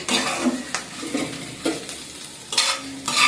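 Taki fish bhorta fries and is stirred in a pan, a steady close sizzle broken by several scraping stirs of a spatula against the pan, with no one talking.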